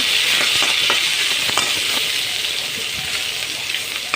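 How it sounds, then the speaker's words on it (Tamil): Chillies and bell peppers sizzle and fry in a pan with onions, a steady broadband hiss broken by sharper crackles and spatters as the vegetables are stirred, close and fairly loud, with no talking. "நல்லா வதக்கிக்கோங்க"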